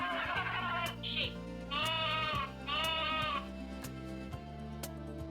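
Toy sheep gives several shaky bleats in quick succession, clear and close, over a looping electronic melody.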